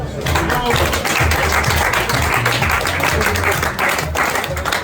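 Dense applause fills the space, a steady roar of many hands clapping at once, with voices mixed into the crowd noise.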